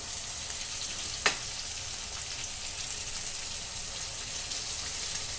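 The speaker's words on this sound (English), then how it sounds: "Now we are going to add the mutton, marinated mutton, which we had kept earlier." Steady, soft sizzle of marinated mutton frying with onions in a pan, a constant hiss with one brief sharp clink partway through, close and quiet with no talking.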